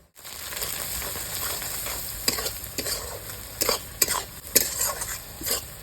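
Spiced eggplant bharta frying and being stirred in a pan with salt, black salt, turmeric and chilli powder: a steady close sizzle with repeated scraping strokes of a spoon against the pan, no voices.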